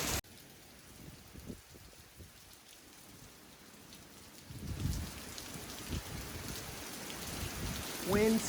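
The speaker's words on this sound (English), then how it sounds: "Wind's kicking, rain's blowing, full ditches over here." Heavy hurricane rain from Hurricane Delta in Louisiana pours steadily on surfaces, with gusting wind and a rumble of thunder, growing louder partway through.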